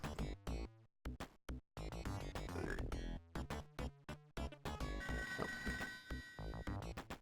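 A telephone rings inside a Sega Genesis game amid busy game music and sound effects, the ringing tones sitting high in the mix over rapid chopped bursts, moderately quiet overall.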